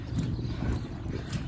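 Horses being walked in from the field, low, muffled hoofbeats thudding in an uneven rhythm close by, with no talking.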